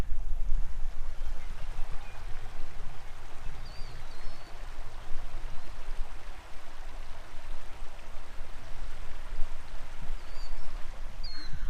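Rushing water of a stream flowing beside a storm-damaged road among pines, a steady, fairly loud broadband wash that continues unbroken with no talking.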